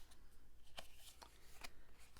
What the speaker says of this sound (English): this deck is also a runner-up for my hardest to shuffle deck